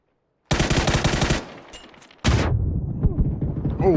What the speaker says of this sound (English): Why is someone else shooting them?